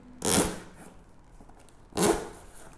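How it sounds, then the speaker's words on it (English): Two short bursts of tearing and ripping as a knife breaks the seal on a camera lens box, about two seconds apart, close and fairly loud, with quiet between them. "We're going to go ahead and break the seal."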